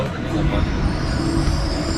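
An airport rail link train pulls into a station in Kuala Lumpur. A loud, steady rumble of rolling wheels fills the space, with faint high squeals, close by and continuous.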